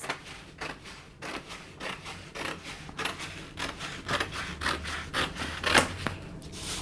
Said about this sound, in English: I'm just going to cut along these dart lines.